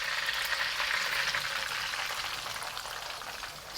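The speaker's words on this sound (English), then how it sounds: "Now we'll deep fry our potatoes" Potato strips, about 480 grams, deep frying in hot oil give a steady, even sizzling hiss that carries on throughout, fairly soft and close, with no talking.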